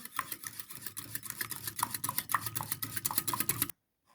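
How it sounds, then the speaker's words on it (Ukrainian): Rapid, steady clicking of a fork beating eggs for batter against a bowl, continuous for a few seconds and then stopping abruptly. "Гарно розбовтую яйця"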